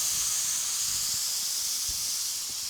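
Lemon juice hits a hot pan with olive oil and pork tenderloin, giving a loud, steady, close sizzle and hiss that carries on without a break and with no talk.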